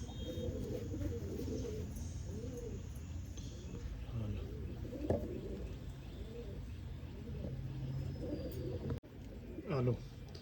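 Many pigeons at a pigeon sale in Tarn Taran coo in repeated rolling phrases over a steady background murmur, with a voice talking over them and a brief handling noise near the end.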